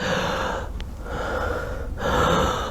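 A man imitates the gasping breath of a dying child, drawing in two or three harsh, raspy inhalations separated by short pauses, close and fairly loud with no other sound.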